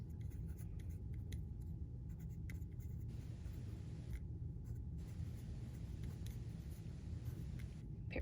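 A pen scratches continuously across shifting paper, with faint rustling from the sheet sliding about, steady and close over a low rumble.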